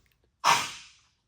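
A single sharp sneeze bursts out close by, loud at first and trailing off quickly into silence.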